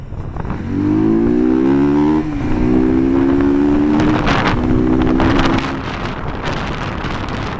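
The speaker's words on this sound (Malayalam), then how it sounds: "ഒരു 5K പ്ലസ് RPM കയറുന്ന സമയത്ത് വണ്ടിക്ക് വേറൊരു സൗണ്ട് ആവും" A close Bajaj NS 200 BS4 motorcycle engine revs above 5,000 RPM to a high pitched, sustained whine, holds, then drops, with wind buffeting the microphone.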